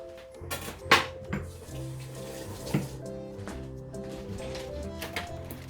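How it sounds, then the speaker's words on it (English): Water poured into a natural healthy drink at home, a trickling pour with a few louder splashes and clinks near the start, steady and close throughout. "So I add the water that I normally drink."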